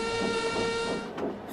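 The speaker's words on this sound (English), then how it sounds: "Further up the line, Sir Handel pulled into the loop to allow a down train to pass." A steam engine train pulls into a railway passing loop, a loud, close chuffing and hissing rumble with a sustained whistle-like tone that fades as the train slows, with no talking.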